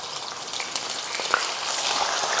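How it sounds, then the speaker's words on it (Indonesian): Milkfish (bandeng) fries in hot oil, a dense, steady crackling sizzle heard up close with scattered pops and no voices. "Lanjut kita akan goreng bandeng sekarang. Nah, ini kita masukin bandeng ya."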